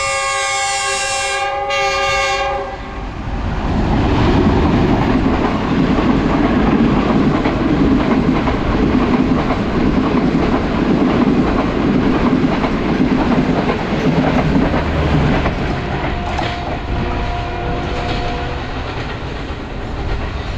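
The Green Line Express passenger train in Pakistan sounds its horn in a short blast, then thunders past close by for a long stretch of loud rumbling and clattering wheels, with another horn note near the end.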